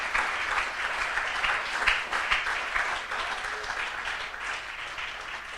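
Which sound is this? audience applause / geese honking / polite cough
audience applause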